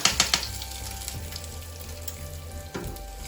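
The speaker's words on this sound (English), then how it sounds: "So I have put the tadka in this as well." Hot tadka of chilies fried in a little oil, poured over millet curd rice, hisses with an opening crackle of sharp pops that settles into a steady, loud sizzle.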